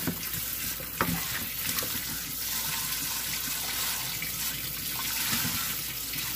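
Tap water runs steadily into a kitchen sink as food is rinsed during prep for sancocho, a continuous splashing hiss with occasional clatter from handling.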